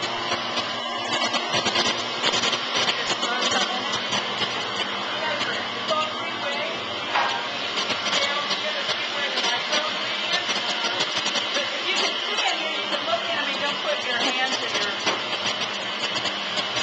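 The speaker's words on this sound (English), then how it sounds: "the mixer is a big paddle mixer" Big paddle mixer churning animal feed, a steady dense mechanical roar filling the space throughout, with people talking faintly beneath the noise.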